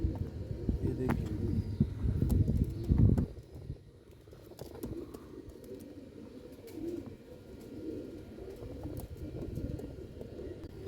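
A Faisalabadi Neeldumba pigeon, a heavy male paired with a slim Jaunsri Kasuri female, coos in low, throaty bursts over a dense rumble of background noise, loudest early on before settling into softer, steady murmuring.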